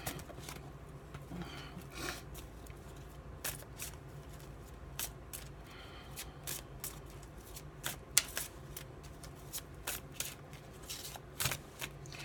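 A deck of tarot cards is shuffled by hand nearby, giving soft, irregular papery flicks and snaps scattered over a quiet room background.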